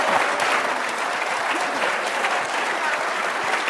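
Audience applause at a press briefing, a dense steady wash of many hands clapping that fills the whole stretch at close range, with no voices rising above it.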